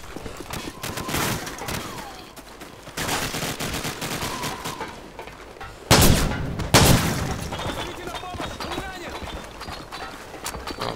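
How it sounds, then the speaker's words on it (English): Dense bursts of automatic gunfire and heavy booms from Call of Duty: Modern Warfare combat, loud and close with sharp blasts near the middle, mixed with game voices speaking over the shooting. "Give me some covering fire."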